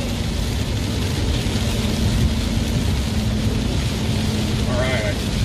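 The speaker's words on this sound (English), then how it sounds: "It's raining really hard." Heavy rain roars steadily as a dense, constant hiss, with a low engine-like drone underneath and no clear voices.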